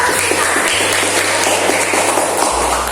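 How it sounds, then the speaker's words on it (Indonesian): Classroom applause for a student who answered a question: a steady, dense patter of clapping from many children, loud and continuous, with a low electrical hum underneath. "Tepuk tangan buat."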